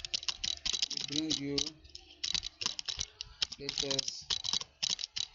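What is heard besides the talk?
typing on a computer keyboard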